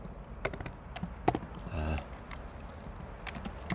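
Someone types code on a computer keyboard, giving scattered key taps and a few sharper clicks spaced irregularly at close range, with faint talk in the background.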